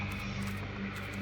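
A computer cooling fan runs hard because the machine is overheating, giving a steady, even whirring hiss with a low hum underneath throughout, with no talking.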